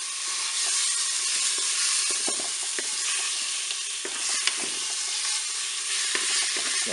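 Pork tenderloin sears in olive oil in a Cookeo multicooker, a steady close sizzle and hiss that runs throughout, with occasional scraping clicks as the meat is turned.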